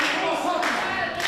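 A wrestling crowd claps and cheers for Brady Payne in a continuous rush of hand claps and indistinct voices, heard from within the arena.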